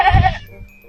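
A goat gives one short, nasal bleat close by, fading quickly into a quiet outdoor background with no talking.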